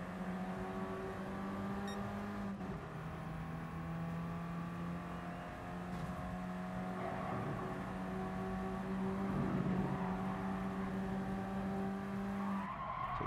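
A Copen race car in the GT Sport racing game holds a steady, droning engine note, with faint tire skids and a brief shift in pitch partway through.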